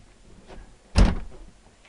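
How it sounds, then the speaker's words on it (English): A house door swings shut on a freezing day, giving a single solid thud with a short rattle. It lands close by after a faint rustle, and nobody speaks. "I've got to close this door now because it's bloody freezing"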